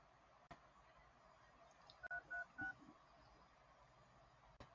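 Telephone keypad tones sound during an outgoing phone call: a quick run of short, clear dialing beeps in two bursts at moderate level against a quiet background with faint clicks.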